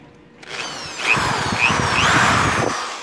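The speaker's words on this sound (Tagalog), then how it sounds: "Then before maggawa tayo ng base, i-drill muna natin 'to." A power drill boring holes in the base for a homemade multi-bottle pulse jet spins up after a short quiet start, then runs loud and close with a whining, slightly wavering pitch for about two seconds before stopping.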